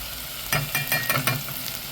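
Spices for dal tadka sautéing in a pan: chilli powder, turmeric and a pinch of asafoetida hiss steadily in hot oil, with a few close scraping strokes of a spatula over a constant sizzle.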